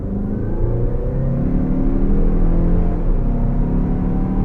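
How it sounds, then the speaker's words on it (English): A 2019 Mazda CX-5 Grand Touring Reserve accelerates hard, its engine a loud, steady rising drone with road rumble heard from inside the cabin. "I'm just going to step on it because I want you to see the kind of acceleration that you've got out of this thing"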